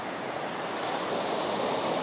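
Ocean waves churn and wash in a steady, dense rushing roar with no distinct breaks and no voices.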